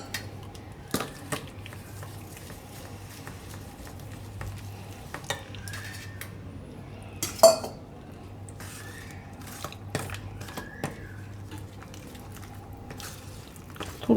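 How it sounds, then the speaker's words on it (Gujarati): Rice flour is stirred with a little water into a thin batter for bread aloo tikki, giving intermittent soft clicks and wet scraping strokes against the bowl, with no talking. "હવે આપણે આ ચોખાનો લોટ છે એમાં થોડુંક પાણી નાખીને એનું પાતળું ખીરું કરશું."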